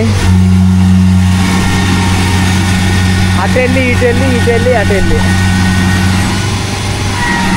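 A Kubota tractor stuck in mud revs its engine steadily near the microphone, a low droning hum with a rising whine midway, while people shout and talk over it.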